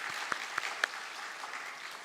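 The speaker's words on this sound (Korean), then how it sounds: "저쪽에 계시는데 한번 손 한번 들어주시고 박수 한번 환영해 줄까요?" Congregation at a Wednesday church service applauding to welcome four visiting teachers, a steady wash of clapping from many hands with a few sharper claps standing out, moderately distant.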